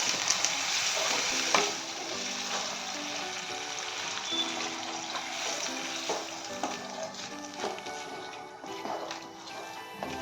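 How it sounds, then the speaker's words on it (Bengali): Loud, steady sizzling and frying of a small-crab curry in a pan as water goes in, with a burst near the start and a continuous hiss, with scraping stir strokes throughout. "এখন দিয়ে দিচ্ছি জল।"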